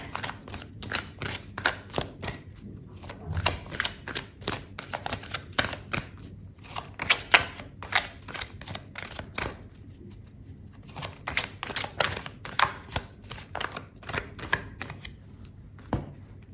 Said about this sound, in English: I'm going to pull out another card for you, Sagittarius.